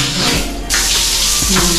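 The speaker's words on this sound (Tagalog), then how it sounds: "Malakas yung kanyang tubig." Shower in a hotel family room running with strong water flow, a loud steady hiss of spray that surges brighter partway through and holds close and continuous.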